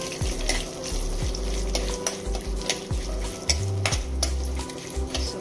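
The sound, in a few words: garlic and spices frying in a pan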